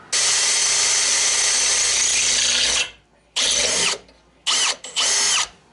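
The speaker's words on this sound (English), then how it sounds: "let the drill bit do the work" A power drill whines loudly in one long run, then in several shorter bursts separated by brief pauses, drilling holes along the edges of a car body kit.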